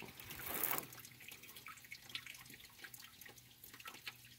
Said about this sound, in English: Now get your garden hose and get in here and flush all that crap out.